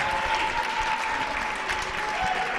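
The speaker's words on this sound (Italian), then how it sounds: "Un applauso per Marco Rossini." A crowd applauds at a baskin basketball tournament, a short burst of dense clapping at a steady level with a faint tone beneath.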